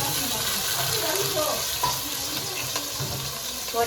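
Shallots and tomato sauté in a pan for a village-style country chicken curry, a dense, steady sizzle with soft stirring scrapes heard up close.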